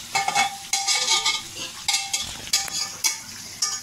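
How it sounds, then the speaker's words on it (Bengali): Mutton being stir-fried in a wok for a home-style curry, with a spatula repeatedly scraping and stirring against the pan in quick irregular strokes over a light sizzle, close and fairly loud. "এবার এখন ভালো করে এখানে কষানো হবে"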